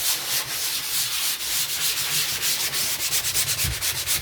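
A sanding block scrubs steadily over a drywall patch on a hole repair, a continuous dry, raspy rubbing of even strokes, close and fairly loud with no talking.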